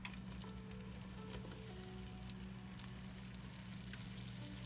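Flour being stirred into melted butter in a pot for a roux, a steady close sizzle with soft scraping and faint spoon clicks running throughout.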